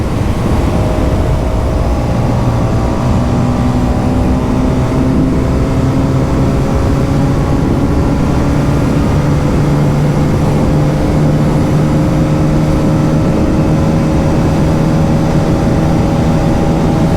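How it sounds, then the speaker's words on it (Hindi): Hero Karizma XMR motorcycle cruising fast in sixth gear, a loud continuous engine drone with steady high revs and heavy wind rush throughout, no talking. "6th गियर में 140 के आसपास तो मैं टच कर गया"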